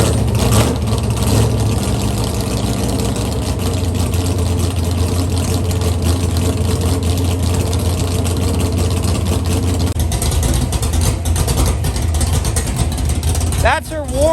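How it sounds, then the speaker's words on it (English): Ford Coyote V8 idling warm through open headers in a garage: a loud, steady, rumbling low burble held throughout, close by, with talk faintly over it. "That's her warm idle."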